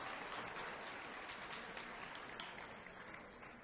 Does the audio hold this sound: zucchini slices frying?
no